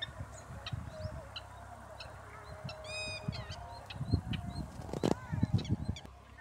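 A bird calling repeatedly in a paddy field, honking and clucking in short bursts of varying loudness against steady outdoor ambience, growing louder and busier toward the end.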